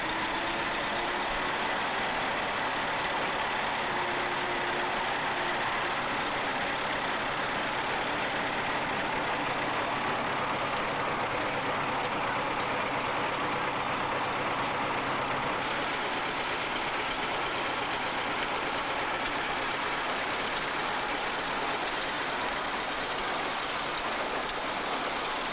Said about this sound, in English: The second Fordson is driving the baler.